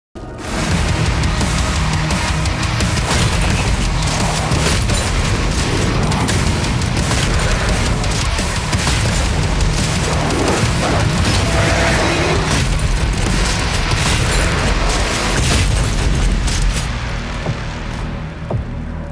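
Super Shotgun from DOOM: The Dark Ages blasting through dense, loud game combat, its heavy booms and mechanical clacks layered continuously over thick music and effects with no pauses for nearly twenty seconds.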